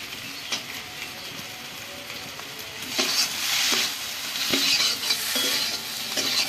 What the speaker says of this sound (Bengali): এবার আমি দিয়ে দিচ্ছি ঢেঁড়স আর এই কাঁচা টমেটো